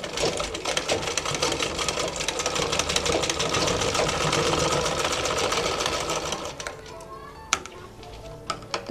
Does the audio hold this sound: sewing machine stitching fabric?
yes